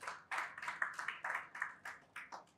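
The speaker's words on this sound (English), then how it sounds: "Can we give him a round of applause?" A few people clap in a quiet, sparse round of applause at a press event, irregular separate claps that stay faint and brief.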